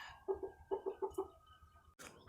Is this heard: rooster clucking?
yes